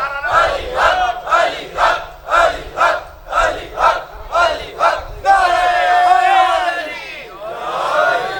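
A crowd at a Muharram majlis shouts a rhythmic religious chant in unison, eight steady pulsing bursts followed by a sustained, louder massed cry, close and loud.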